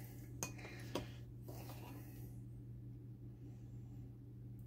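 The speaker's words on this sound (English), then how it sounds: "So stir this till it gets thick." A spoon stirs a thick homemade Bombay prison drink mixture, with a couple of sharp clinks against the container early on, then quieter scraping over a steady low hum.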